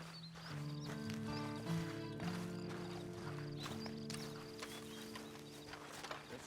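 A horse's hooves clip-clop at a walking pace in the video game Red Dead Redemption 2 Online, quiet and close under a sustained orchestral music bed, with faint rustling and no speech.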